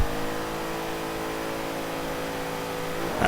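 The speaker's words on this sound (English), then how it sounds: "Building up the revs now." A racing car's engine is held at high revs on the start line before launch, giving a loud, sustained, steady whine with no talk over it.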